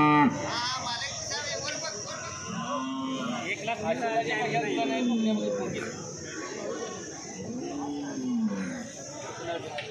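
Several low cow moos rise and fall over a busy background of people talking nearby at a cattle and buffalo market in Murgud.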